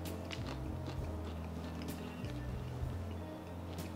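Biting and chewing into a hot, crispy deep-fried prawn bonda, soft crunchy mouth sounds up close over a steady low hum, with no talking.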